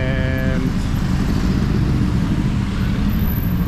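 Steady street traffic on a busy Chiang Mai road: a loud continuous rumble of cars, trucks and motorbikes passing close by, with a brief horn-like tone at the start.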